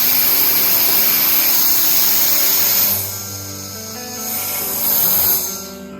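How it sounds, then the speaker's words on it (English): A battery-operated blower blasts dust, dirt and parts cleaner off Jeep engine parts, a loud, steady hissing whine that drops in pitch and volume halfway through, then rises briefly again before fading. "I'm using a battery-operated blower to clean, blow out dust, dirt, and parts cleaner."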